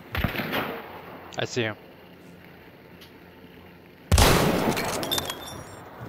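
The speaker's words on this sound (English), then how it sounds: "Yep, they're definitely shooting at me." Gunfire in Hunt: Showdown: a few sharp shots early, then a loud, close blast with a ringing tail, while someone speaks briefly between them.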